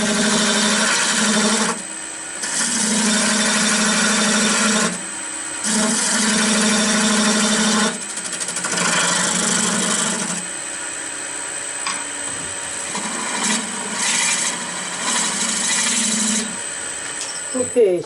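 A wood lathe turns a poplar or maple baseball bat blank, a steady whirring and scraping tool hum that cuts in and out in several long bursts, loud and close throughout.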